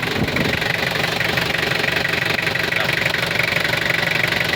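Engine of a 1994 Toyota Mighty X pickup idling steadily up close, a continuous mid-pitched rumble with a fine knocking rhythm and constant loudness throughout.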